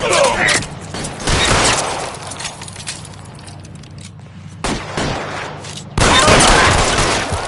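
A shootout in the video game L.A. Noire: loud, broadband bursts of gunfire arrive in separate volleys with brief lulls between them, mixed with clattering and breaking sounds.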